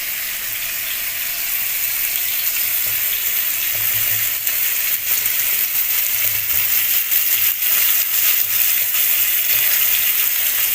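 Malvani bangda (mackerel) frying in a pan over a medium gas flame, a loud, continuous hissing sizzle with faint crackles, close up and with no talking.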